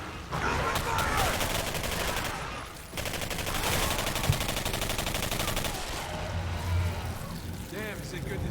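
Sustained gunfire in a Call of Duty style first-person shooter, a dense fusillade of rapid shots and bursts running almost without pause, loud and near, with some game voices mixed underneath.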